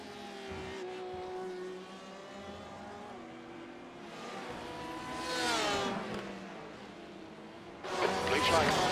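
LMP1 prototype race cars in the iRacing simulator at the 24 Hours of Le Mans, engines whining and rising in pitch as they approach and pass, with a louder surge near the end and a voice talking over them.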